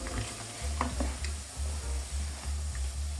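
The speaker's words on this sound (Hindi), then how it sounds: "कबाब अच्छी तरह फ्राई हो चुके हैं" Lahori-style kebabs frying in a pan, a steady loud sizzle with stirring scrapes and occasional crackles throughout, no voices.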